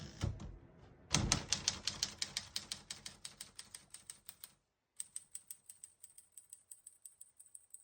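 Rapid mechanical clacks of a 1953 Smith-Corona ultra-portable manual typewriter, a dense burst of strikes that slows, pauses briefly, then resumes at a steadier pace, close and crisp.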